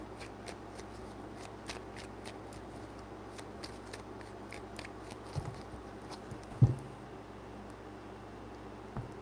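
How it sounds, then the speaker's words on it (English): Tarot cards being shuffled by hand, a quiet run of soft, crisp riffling clicks and flutters repeating steadily, with one slightly louder snap near the end. "Three shuffles."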